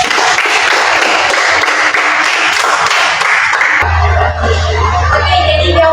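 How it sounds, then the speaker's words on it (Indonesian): Hands clapping in applause from a classroom group, dense and steady for several seconds, then giving way to a low hum and quieter rattling near the end. "Beri tepuk tangan dulu semuanya"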